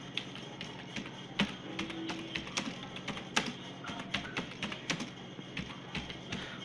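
A computer keyboard clatters with quick, uneven runs of key taps as text is typed, close and fairly quiet, with no voices.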